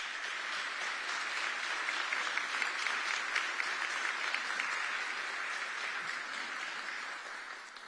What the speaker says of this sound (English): Why don't we give them a round of applause